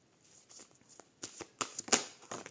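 Cards being handled and drawn from a deck for a love reading, a run of quick papery flicks and slides building to a few sharper snaps, close and clear with no talk.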